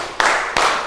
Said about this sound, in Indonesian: 3 kali tepuk kita